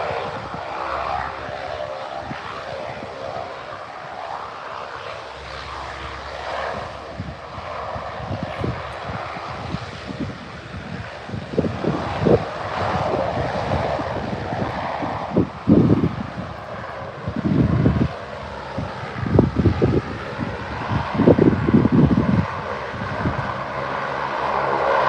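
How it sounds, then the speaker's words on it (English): Propeller airliner at Birmingham airport, a steady distant engine drone that swells into a louder rumbling roar with gusty wind noise as it passes, with no talking. "For some reason this particular aircraft doesn't want to show itself in flight radar"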